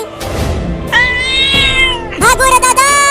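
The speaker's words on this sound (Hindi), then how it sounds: "वो बड़ी बिल्ली मुझे काटने के लिए आ रही है क्या?" A large cartoon cat lets out drawn-out, rising meows, two clear calls separated by a brief gap, loud and close, with a voice talking underneath.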